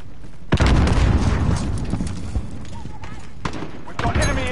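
A grenade detonates with a heavy boom in a multiplayer shooter video game, followed by scattered sharp bangs and game noise while players talk over it.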